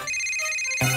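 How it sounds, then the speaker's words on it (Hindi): A short electronic phone ringtone plays for an incoming call, a bright repeating melodic tone that jumps to a louder, fuller burst near the end. There is no talking. "किटी का फोन है।"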